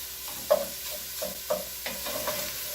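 Sausage sizzling in a pan as it is chopped and stirred, a constant frying hiss broken by several scraping clicks of a utensil against the pan.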